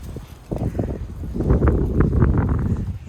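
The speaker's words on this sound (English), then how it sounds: "Wind." Wind buffets the microphone in a Minnesota garden during garlic planting, a blustery low rumble that surges after a brief lull and keeps gusting close and loud.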